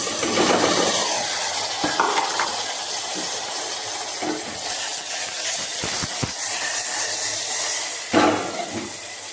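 Bottle gourd curry with asafoetida and turmeric hisses and sizzles steadily in a pan, with occasional stirring scrapes and clinks of a utensil against the metal, close and fairly loud throughout.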